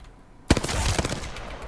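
Hemlock burst rifle firing in Apex Legends: a sudden loud report after half a second of near silence, followed by a dense cluster of rapid shots and ringing echoes.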